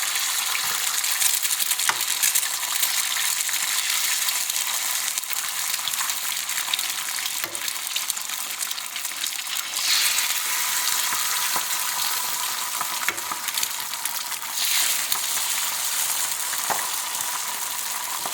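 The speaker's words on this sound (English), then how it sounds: "I'm going to go ahead and crack that right onto our hot skillet" An ISA Brown chicken egg fries in a hot skillet with a steady, even sizzle and soft crackles throughout, heard close and alone without speech.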